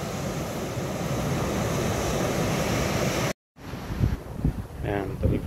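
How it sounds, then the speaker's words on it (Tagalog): Strong sea waves roll onto a beach at low tide at a camp in Agno, Pangasinan, a loud, steady roar mixed with wind buffeting the microphone. After a brief dropout, voices talk over the surf. "Lakas pa rin ng alon."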